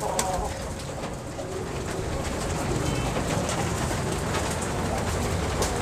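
Sialkoti pigeons cooing close by in a steady stream of soft low calls, with constant background noise and faint rumble beneath.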